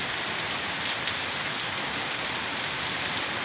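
Heavy rain pours down at night in Murree, a dense, steady hiss of drops drumming on surfaces that stays loud and unbroken throughout with no voices.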